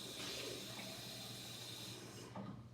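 Water runs steadily from a tap into a cup being rinsed out, a continuous splashing hiss that cuts off near the end.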